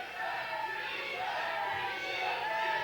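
A wrestling crowd jeers and shouts in a steady, dense roar that fills the arena without a break.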